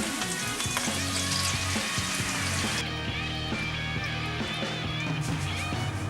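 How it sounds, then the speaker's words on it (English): Olive oil, red onion and tomato for a tomato sauce sizzle steadily in a pan, a continuous bright frying hiss with occasional stirring clinks and music playing softly underneath. "I quickly prepare the tomato sauce with olive oil, red onion and tomato."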